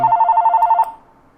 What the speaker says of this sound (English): I can't actually get to the phone.